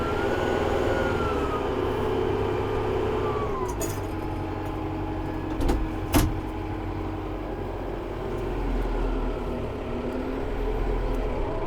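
Steady drone of a Kubota utility tractor engine running in low range, heard from inside the cab, loud and continuous with a few brief knocks and clunks partway through.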